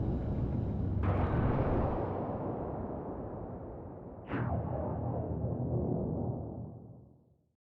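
A giant explosion in the video game Ghost Trick erupts as a loud rushing blast, followed by a second sharp burst midway, and both roar on before fading to silence.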